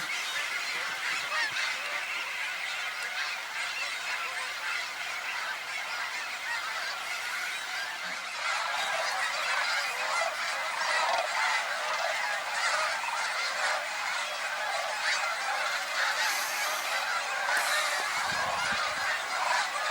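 A large flock of snow geese fills a field at sunset with a continuous, dense chorus of overlapping honks and yelps, mixed with other waterbirds, steady and loud throughout at Cibola National Wildlife Refuge.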